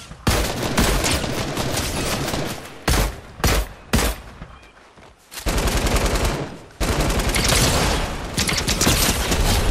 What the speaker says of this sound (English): Who the fuck shooting at me?